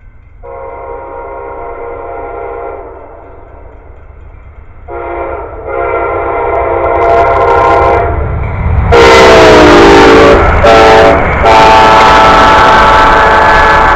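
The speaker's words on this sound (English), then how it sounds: "There it goes, another train." A train passes close and loud, sounding its horn in several long blasts, with rumbling wheels and clatter building as it goes by.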